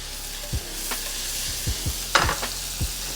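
Shrimp sizzle steadily in a hot skillet while being tossed, with a spatula scraping and tapping the pan several times over a constant frying hiss, close and moderately quiet.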